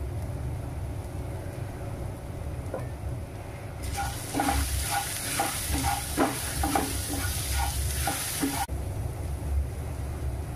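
Kadhi wada mixture with ajwain and turmeric is stirred in a pan: a quiet background gives way to several seconds of brisk scraping and sizzling stirring strokes, which then stop abruptly.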